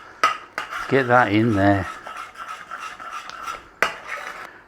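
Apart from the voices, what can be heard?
stirring banana rum jam in a pan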